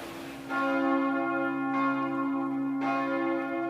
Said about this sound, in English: the church bell sounding from the Mátyás Church up in the Buda Castle area